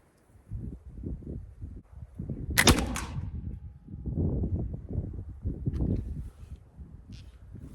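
A flintlock musket loaded with a buck and ball paper cartridge fires once on an outdoor range: a single sharp, loud report with a short echoing tail, set against quiet rustling and handling noise.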